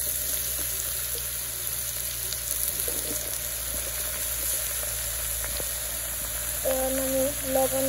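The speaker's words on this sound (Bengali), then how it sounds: "দিদি সবজিগুলা দিয়ে দিল কড়াইতে।" Vegetables tossed into hot oil in a wok, a continuous moderate sizzle with occasional clinks, a faint background hum, and a brief tonal beep near the end, no speech.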